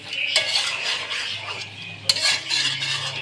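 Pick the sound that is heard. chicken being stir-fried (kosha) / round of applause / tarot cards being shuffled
chicken being stir-fried (kosha)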